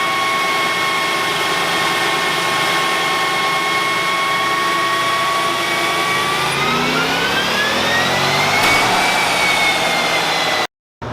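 A Jeep strapped to a chassis dyno revs hard through a baseline pull, a loud sustained engine whine climbing in pitch toward the end before cutting off abruptly, with no talk.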